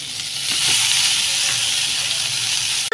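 Chow mein noodles go into a pan of onions fried until red, setting off a loud, steady sizzle that swells and then holds, ending with a brief clatter.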